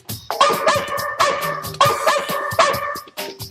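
A dog barks about four times in a steady rhythm, sharp and close, with short pauses between each bark.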